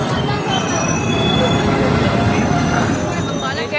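Lucknow Chandigarh Express pulling into a station platform, with loud, continuous high-pitched wheel squeal and the rumble of rail cars close by, dominating the scene without pause.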